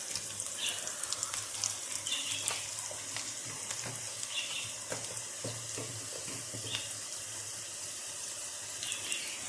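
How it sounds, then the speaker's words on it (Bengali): Green beans frying with spices in hot oil make a steady close sizzle. Scattered stirring scrapes and clinks rise above the frying throughout, and no one speaks. "আমি এভাবেই সিম ভাজি করি"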